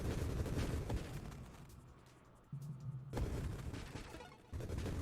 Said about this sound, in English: super explosions